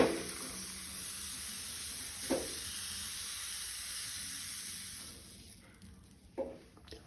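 Rice flour bhakri laid on a hot tawa on a gas stove gives a steady soft hiss and sizzle, with a couple of brief louder crackles and the sizzle easing toward the end.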